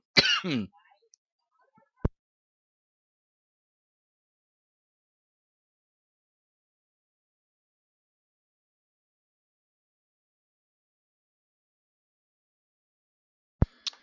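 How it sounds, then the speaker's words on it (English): A single close cough and throat clearing at the start, then near silence broken by a couple of sharp clicks. "I was having a cough attack."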